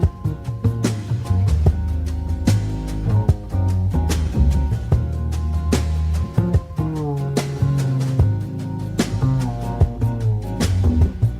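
A music sample from a weekly sample pack plays alone, a dense melodic loop with sustained low bass notes, layered harmonic tones and regular percussive hits throughout, without talking.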